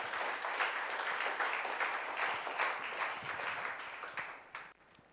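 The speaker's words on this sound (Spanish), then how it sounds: "Dale un aplauso al Señor si tú crees esto para ti." Church congregation applauding the Lord during a Spanish-language sermon, a fairly faint, even wash of clapping that thins out and drops away near the end.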